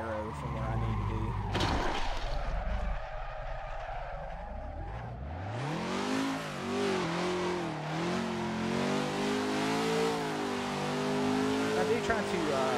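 BMW E36 drifting on a track in Assetto Corsa, the engine revving hard and rising and falling through long slides, tires squealing and skidding throughout, loud and continuous, with a voice talking over parts of it.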